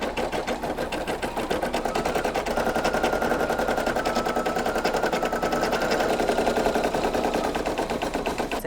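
A Brother PE800 embroidery machine stitches the outline of an appliqué, a fast, even, continuous needle clatter that runs without pause, close and alone.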